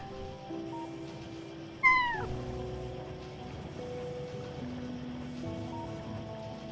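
A pet cat meowing indoors, one sharp, loud rising meow standing out over a steady background hum, with no talking.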